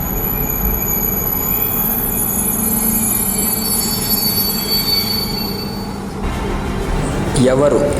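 A train rumbles loudly with wheels squealing as it brakes, the grinding noise easing toward a stop, with faint clinks near the end.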